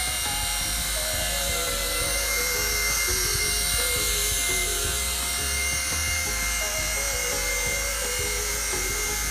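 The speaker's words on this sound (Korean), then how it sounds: "돌릴 때는 헬리콥터를 천천히 회전시키는 것도 하나의 연습입니다." A small RC helicopter hovers in slow practice flight, its rotor and electric motor producing a steady, loud high-pitched whine and buzz throughout, with no talk over it.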